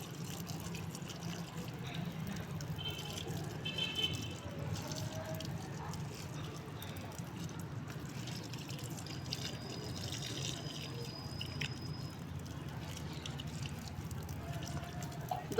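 Carrots are rubbed and washed by hand under running water, a soft continuous trickle and splash with faint drips, fairly quiet and distant-sounding against low background noise.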